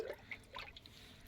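Water poured onto the roots of a newly planted plant, heard as faint, soft trickling and scattered drips close by.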